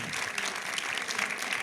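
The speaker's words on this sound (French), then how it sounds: "On peut les applaudir" A brief burst of audience applause at a public evening debate on modern slavery, thanking the panel speakers; dense, even clapping throughout.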